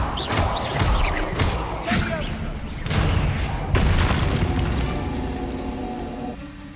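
Bombarda explosion spells blasting in Hogwarts Legacy during a busy spider fight, with several sharp bursts rising over a dense mix of combat effects and rumbling impacts, loud and close throughout.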